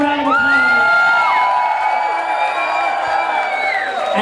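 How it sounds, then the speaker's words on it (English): A club crowd at a drag show whoops and cheers loudly for four contestants, with high sliding shouts and yells layered over a dense, continuous roar. "Give them a big round of applause."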